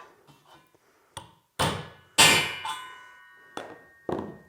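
A hammer strikes a drill bit dropped into a hole in a bench vise. Several sharp metallic clangs with ringing tails come close and loud at irregular intervals.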